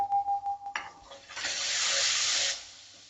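Ground spices (red chilli powder, turmeric, garam masala, coriander powder) stirred in hot oil in a pan over a low flame, a steady soft sizzle swelling for a couple of seconds after a few light knocks and scrapes.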